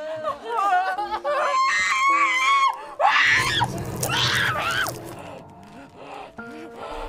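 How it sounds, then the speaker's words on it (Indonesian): A film character screams in pain as needles are driven into her fingers and mouth, loud, wavering shrieks and cries in several bursts, with other voices mixed in. "sehingga membuat ia berteriak menahan kesakitan"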